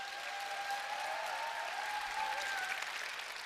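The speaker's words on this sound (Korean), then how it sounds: "내려가라는 박수 같은데요?" Audience clapping for a speaker at an Atomy success seminar in Busan, a faint, even patter of many hands heard from a distance, with a thin tone drifting through it.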